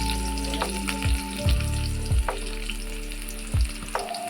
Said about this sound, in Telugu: వేడైన ఆయిల్లో జీలకర్ర ఆవాలు వేసుకోవాలి. సన్నగా కట్ చేసుకున్న ఉల్లిగడ్డ వేసుకోవాలి.